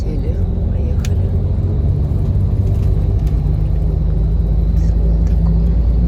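Steady low engine rumble and road drone from inside a comfortable bus travelling along the D400 in Turkey, continuous and fairly loud with faint background voices.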